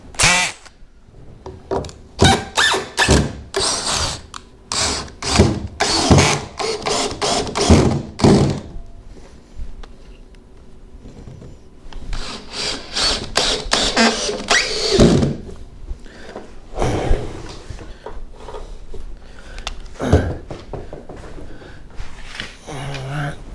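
Power drill driving screws into a DIY camper wall, with several short bursts of whirring and clattering handling noise up close, mostly without talk.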